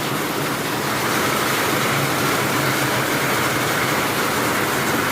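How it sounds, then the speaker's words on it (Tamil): Heavy rain pours down steadily over a parking area, a dense, even roar that holds at the same loudness throughout, close by and unbroken, with no voices. "செம்ம மழைங்க"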